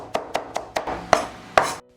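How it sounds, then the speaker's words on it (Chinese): Knife chopping celery into fine bits on a board for tofu and egg dumpling filling, six sharp, evenly spaced chops, close and crisp, the last two heavier, then stillness. "芹菜也切成末"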